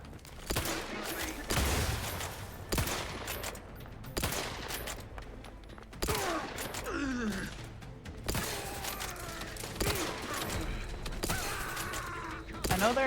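Gunfire from the video game The Outer Worlds 2: repeated loud bursts of shots and rapid volleys, mixed with mechanical clanks and other in-game effects across the whole stretch.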